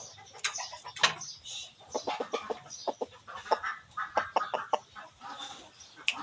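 Chickens cluck repeatedly at a cockfighting pen, with quick irregular bursts of clucking and squawks near and fairly loud, mixed with softer bird calls in the background.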